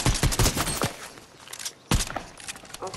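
A sniper rifle goes off in a Spider-Man video game as a sharp, loud crack with a short burst of follow-up noise, then a second hard crack about two seconds later.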